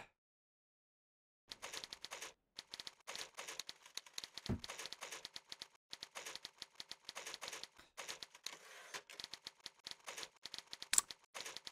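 Typewriter-style text typing effect in Clive Barker's Jericho, heard as fast bursts of crisp mechanical key clicks in repeated runs with short pauses, fairly faint and alone.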